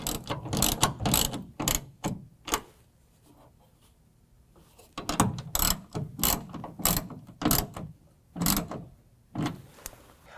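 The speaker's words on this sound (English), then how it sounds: "we're going to tighten it down with that 1/2 inch ratchet and socket" A 1/2 inch ratchet and socket tightens a tonneau cover striker on a 2017 Chevy Silverado 2500HD, with bursts of rapid, close clicking separated by short pauses.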